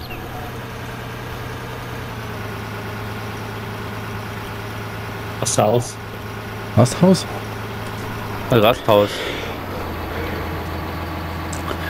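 A tractor engine in Farming Simulator 19 drones steadily at a low, even pitch throughout, while several short bursts of people talking cut in over the hum.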